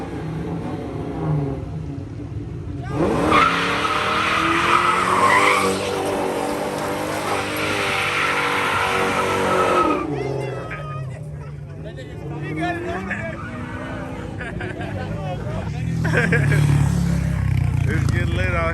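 A Ford Mustang drives past and skids at a crowded street ride-out, a loud surge of engine roar and tire squeal that fades, then rises again, with shouting and chatter from onlookers throughout.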